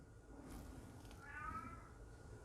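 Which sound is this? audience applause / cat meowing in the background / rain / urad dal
cat meowing in the background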